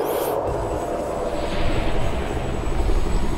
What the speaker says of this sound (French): c'est un hélicoptère ou un vaisseau, ce truc?